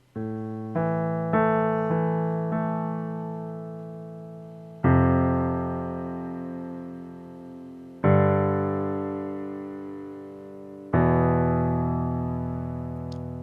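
Piano chords struck one after another, each ringing out and slowly decaying; a few quick chords at first, then longer sustained ones, played alone.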